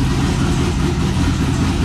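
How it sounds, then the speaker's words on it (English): A turbocharged classic car idles at a high-performance motorsports shop, its turbo dumping loudly in a continuous rough, rumbling drone with a steady hiss and no pauses. "it's just dumping straight out the turbo"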